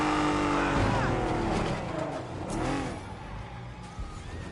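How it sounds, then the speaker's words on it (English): A car in the Spider-Man video game revs and accelerates past. Its engine roars loudly at first, then fades, with some tire noise and speech mixed in. "Stop the car, stop the car, stop the car,"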